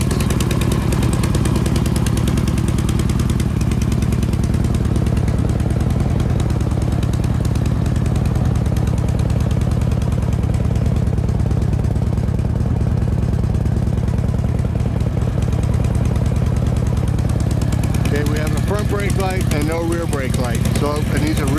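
A 2007 Harley-Davidson Road King with a 103-inch engine idles close and loud, a steady, lumpy, rumbling throb that continues without pause, with a person talking over it throughout.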